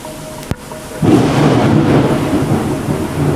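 A sharp crack is followed after a pause by a loud, sustained roll of thunder rumbling over steady rain.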